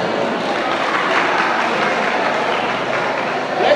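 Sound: audience clapping

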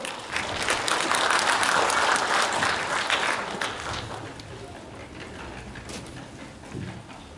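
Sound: audience applause welcoming a lecturer

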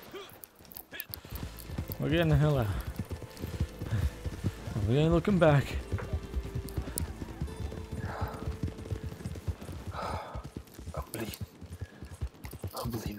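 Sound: horse galloping, from video game Red Dead Redemption roleplay

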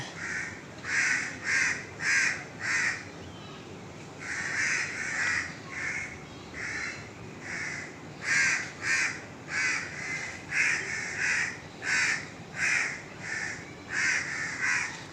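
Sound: crow cawing and chasing a monkey

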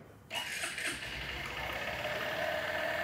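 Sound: Honda Shine 100cc motorcycle engine starting and idling

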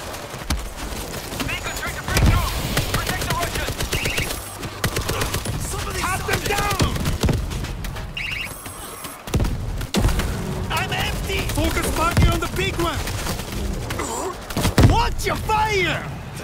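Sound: heavy gunfire from big guns

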